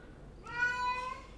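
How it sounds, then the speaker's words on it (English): A house cat meows during a game stream, a single drawn-out harmonic call lasting about three quarters of a second, moderately close, heard alone over a faint background hum. "Sorry about the cat."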